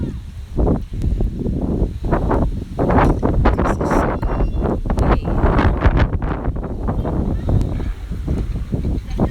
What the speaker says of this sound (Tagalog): It's windy and cold.